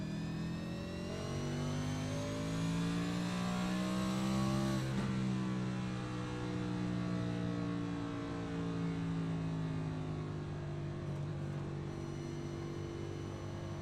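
Race cars in an electric-era Recharge Rally 200 field at Phoenix roar steadily past, a dense continuous engine drone with rising and falling pitch sweeps from several cars, loud and close with no talk.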